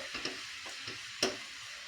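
A spoon or whisk stirs unsweetened cocoa powder into cake batter for an eggless vanilla sponge, soft close scraping strokes in a few quiet pulses with one sharper tap, no talk.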